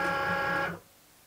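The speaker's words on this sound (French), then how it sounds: "Et je vais insérer le tapis dans la machine comme demandé." A Cricut Maker cutting machine hums steadily as it loads the cutting mat, a close mechanical whir that stops abruptly after under a second.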